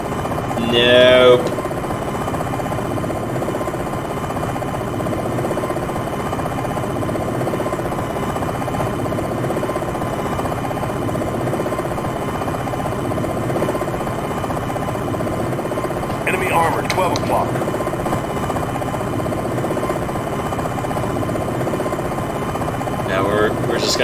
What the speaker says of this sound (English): this and a big, fat, loud Apache helicopter?